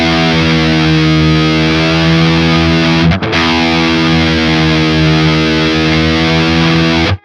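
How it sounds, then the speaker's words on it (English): Electric guitar fitted with a Schaller Vintage Tremolo, one string plucked while another is bent, giving a loud, sustained distorted tone with a wavering pitch and a brief dip partway through before it cuts off. "So if I pluck one string but bend another, you will hear the effect a lot better."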